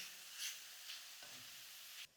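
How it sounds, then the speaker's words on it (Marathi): Leafy greens stir-fry in a kadhai, giving a soft, steady sizzle broken by a few light stirring scrapes. No one speaks over it. "भाजी घातली परतून घे"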